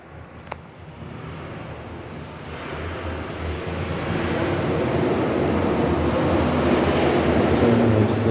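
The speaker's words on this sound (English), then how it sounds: "Certainly still hear all of the airplanes above from in here" Airplanes pass overhead while heard from inside a dark, wide stone room at Fort Mifflin, a low rumble that swells steadily louder over the seconds with a faint click near the start.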